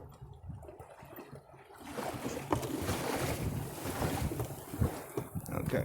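A boat motor pushes upstream against a strong river current with a low, steady rumble, while wind buffets the microphone. The sound grows louder and rougher after the first couple of seconds, and outdoor water noise sits underneath.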